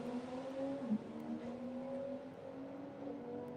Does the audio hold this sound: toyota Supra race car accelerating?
yes